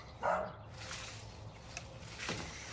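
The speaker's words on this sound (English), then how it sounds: "Damn dog." A dog barks in a video game set in Sandy Ridge, one short sharp bark near the start, fairly close, then a low steady game ambience.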